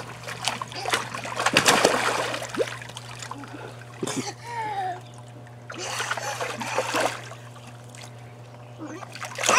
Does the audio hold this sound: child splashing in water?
yes